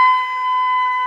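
A flute holds a single high B, a steady sustained tone that stays even in loudness for about a second and stands alone with no other sound.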